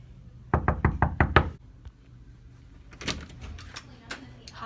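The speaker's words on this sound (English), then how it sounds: "I'm gonna knock on the door and be like, I hope this is my room." Five or six sharp knocks on a hotel room door at a water-park lodge, loud and close in a quick burst, then a pause before a few more scattered knocks and rustling follow.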